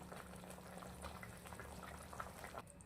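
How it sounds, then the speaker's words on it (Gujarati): Thick gravy with momos bubbles softly and steadily in a pan, a quiet continuous simmer with no voices. "બે મિનિટ સુધી આપણે આવી રીતે ગ્રેવીના અંદર ઉકાળીશું."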